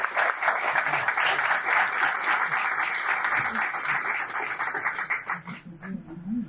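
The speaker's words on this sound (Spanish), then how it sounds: "Lo recibimos con un fuerte aplauso" Applause from a conference audience welcoming a speaker at an event on universal citizen income in Argentina, a dense steady clatter of many clapping hands that holds for several seconds before thinning slightly at the end.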